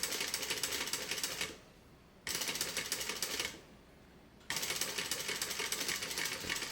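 Sewing machine stitching a backpack seam, running in fast continuous rattling bursts of about one and a half seconds each, with short quiet pauses between the three runs.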